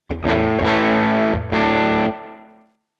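A heavily distorted electric guitar strikes a thick chord, briefly re-attacks it, then lets it ring before it fades out, close and loud.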